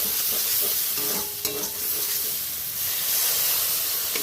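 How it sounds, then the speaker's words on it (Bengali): A loud, steady hiss and sizzle of fish curry with mustard oil, as water poured from a bowl hits the hot pan, with a brief clatter partway and no talking. "বাটি দিয়ে জলটা দিয়ে দিলাম"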